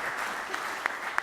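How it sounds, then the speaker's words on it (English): Applause at a 2018 candidates forum in Pleasanton, California, greets a candidate's family member standing in the audience, a soft, steady patter of hand claps with a few sharper individual claps standing out near the end. "Let's give her a round of applause."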